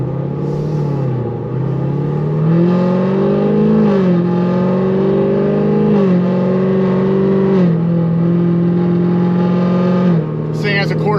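Stage 5 Procharged LT1 Camaro SS V8, running uncorked without exhaust valves, revs hard and loud, its pitch climbing and dipping in sustained pulls, with a brief burst of higher noise near the end.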